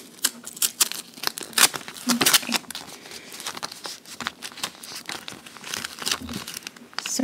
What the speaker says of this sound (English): you want to rub it to make sure that all of the blue vinyl gets stuck to the transfer paper